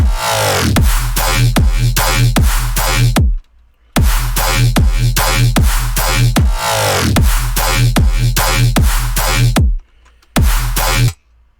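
A deep synth bass made in Hexagon with heavy sub-bass plays repeated punchy notes in a steady rhythm, pausing briefly twice, loud and alone.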